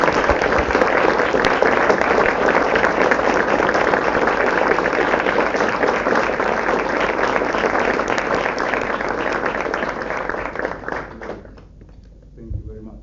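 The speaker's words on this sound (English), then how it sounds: "I would like to ask all of you to give the organizers our warmest applause." Sustained applause from a conference audience at a theoretical physics workshop in Athens, honoring the organizers; dense, steady clapping fills the room for about eleven seconds before tapering off into scattered claps and quiet.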